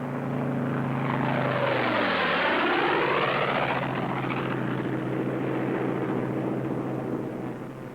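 Thunderbolt fighter planes fly past one behind the other in loose string formation, a loud, close engine roar with a sweeping pitch drop as they pass overhead, then a sustained drone fading slightly.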